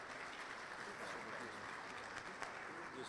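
At a national church convention, a congregation applauds in a continuous, fairly distant wash of clapping that runs evenly without a break.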